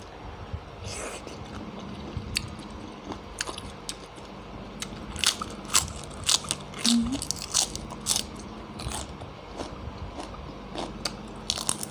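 Shrimp dipped in sauce being chewed close up, with crisp, irregular crunching bites that grow busier toward the end over a low background murmur.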